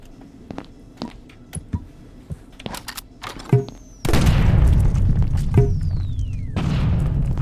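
In the video game My Friend Pedro, scattered gunshots and sharp clicks lead into a loud grenade boom that becomes a sustained, rumbling blast, followed by more gunfire.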